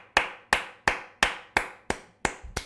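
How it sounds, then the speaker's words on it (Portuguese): A few people clapping slowly and unevenly in a small room, eight sharp close claps spaced about a third of a second apart, with no voices. "Um minuto de palmas"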